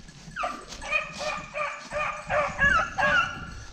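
Hunting dogs on a snowshoe hare hunt bark, yip and whimper excitedly at close range in a steady run of short bursts, with faint bits of a voice mixed in.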